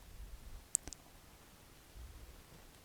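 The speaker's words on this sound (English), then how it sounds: "So click on plugins from the menu." Two or three quick, crisp mouse clicks land close together near the start, sharp and isolated against a quiet room hum, as Plugins is selected from the WordPress admin menu.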